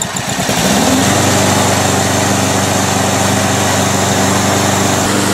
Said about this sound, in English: So there you go, your mower runs once again.